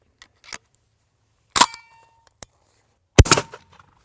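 A shotgun fires Winchester Longbeard XR number 6 turkey loads at a target, heard as two sharp, loud reports with a metallic ring, separated by a few small clicks and ticks, with no voices.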